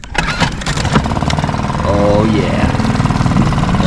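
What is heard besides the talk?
Suzuki 2.5hp outboard motor starting and idling on kayak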